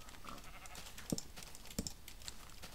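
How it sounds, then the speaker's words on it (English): Sheep in the Minecraft video game bleat twice in short, separate calls against quiet background clatter, with no talking. "Piggies and sheeps and goodness. It's like a zoo out here"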